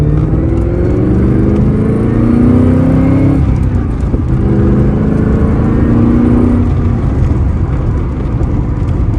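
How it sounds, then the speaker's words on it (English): A C4 Corvette ZR-1 on the road, heard from inside as a loud, continuous engine drone with rising tones as it accelerates through gears, steady and close throughout. "taking the ZR-1 for a ride"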